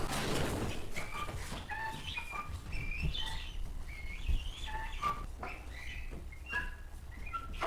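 Rescued birds, including parrots, peacocks and guinea fowl, call continuously at close range: repeated high chirps and squawks in irregular bursts over a steady background hum.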